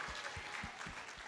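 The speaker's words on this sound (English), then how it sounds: "Can we get a round of applause just for that?" Crowd at a fashion show applauds steadily, a continuous wash of clapping with a few heavier thumps underneath, fairly distant and soft.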